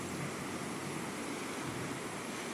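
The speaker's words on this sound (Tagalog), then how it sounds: "Mababaw lang siya, umaagos yung tubig." Shallow river water runs steadily past a swimming spot lined with huts, giving a continuous broadband wash with no talk.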